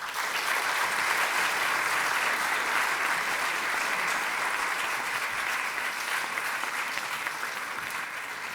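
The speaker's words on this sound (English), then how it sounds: "Please join me in giving a very warm round of applause to the performers." Warm, sustained audience applause fills the hall after an evening of sacred Sikh music honouring the tenth Sikh Guru at the Ronald Reagan venue, a steady, dense roar of clapping throughout with no gaps.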